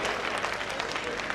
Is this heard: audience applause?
yes